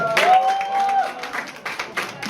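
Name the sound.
applause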